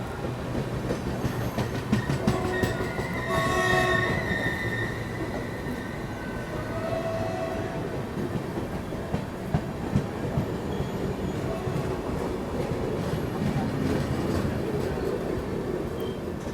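A passenger train rolls past close by at Govindpuri station, with a steady rumble of wagons, wheel clatter and occasional squeal holding for the whole stretch, ahead of the waiting 12801 Purushottam Express departing.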